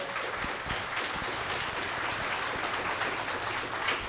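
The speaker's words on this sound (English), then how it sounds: "let's give a huge round of applause" An audience of young schoolchildren applauds a guest speaker in a school setting, giving a continuous, even patter of many hands clapping at moderate distance, with no talking over it.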